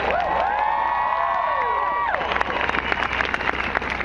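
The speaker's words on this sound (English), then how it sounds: "Please give them a big round of applause." A large crowd at an outdoor political rally in Aurora, Colorado applauds and cheers steadily, a loud wash of claps and whoops with a voice trailing off over it early on.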